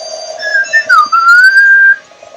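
A bright whistled tone for the Grass Whistle move in a Pokémon battle game, one sustained melodic phrase that dips and rises over about two seconds, loud and clear with no talking.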